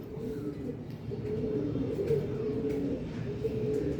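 Pigeons coo softly in a low, steady murmur, several birds overlapping at close range with no clear pauses.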